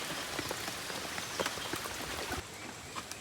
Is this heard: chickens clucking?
no